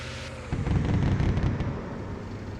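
A VBIED car bomb detonates in a military video game, a sudden loud, deep blast that swells after a half-second lead-in and rolls on as a sustained rumble with crackling debris.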